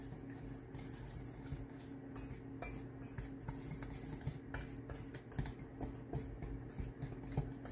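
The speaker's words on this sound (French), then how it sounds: "je mets la farine que je vais brasser au fouet pour bien mélanger le tout" A whisk beating flour into batter in a bowl for banana and peanut butter bread, quiet rapid clinking and scraping strokes repeating steadily, no talking.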